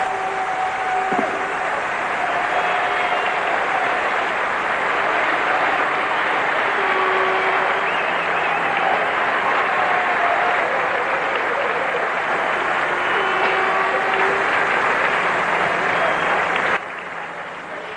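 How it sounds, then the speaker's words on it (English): Large crowd cheering and applauding at the 1994 German Formula One Grand Prix, a steady, dense roar of distant applause that holds evenly for the whole stretch before cutting off near the end. "Listen to the crowd."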